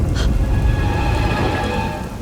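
Steady rain falls at night in a Tamil horror film, a constant close hiss with no voices and a brief brighter splash near the start.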